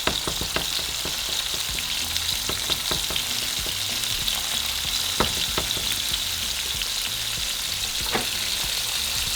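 Burger patties topped with queso Oaxaca fry on a griddle with a steady, loud sizzle and scattered pops and crackles throughout, no one speaking.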